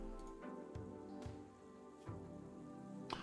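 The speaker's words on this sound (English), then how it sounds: "Now you will see it's the case that it is raining out here." Steady rain falls in the video game RimWorld, a soft continuous hiss of drops with a few faint taps, low and unbroken throughout.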